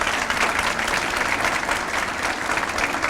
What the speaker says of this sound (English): Please give a round of applause to these individuals.